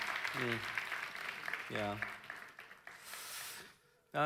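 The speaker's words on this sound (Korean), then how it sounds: "우리 박수 한번 주시기 바랍니다." A church youth service congregation breaks into a brief burst of clapping toward the end, right after a voice is heard speaking.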